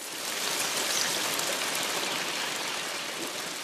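Steady rain hissing as a sound effect, a dense even wash of falling drops that holds constant throughout with no other sounds.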